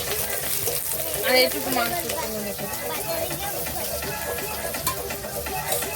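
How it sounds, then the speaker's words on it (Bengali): Onions for beresta frying in hot white oil for biryani, a steady, moderately loud hissing sizzle that runs the whole time beneath a person talking. "তেলটা গরম হয়ে গেছে, আমি সাদা তেল দিয়েছি। এবার ব্রেস্তাগুলো আমি ভেজে নেবো।"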